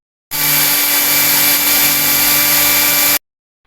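A household blender runs steadily after its motor has been replaced, giving a loud, smooth, continuous whir that starts abruptly, holds for about three seconds, then cuts off.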